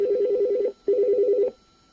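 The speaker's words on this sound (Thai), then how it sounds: "อันนี้จะเป็นลิงโทนสำหรับ สายภายในนะครับ" An LG LDP-9208D digital desk phone's internal-call ringtone sounds in two short warbling trills separated by a brief pause, close and clear.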